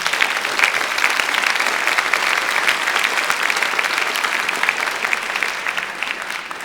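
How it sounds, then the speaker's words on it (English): At a high school scholarship awards night, an audience gives sustained, loud applause for the scholarship committee, a dense even wash of many hands clapping that holds steady and eases slightly at the end. "Please join me in a round of applause acknowledging their hard work and dedication"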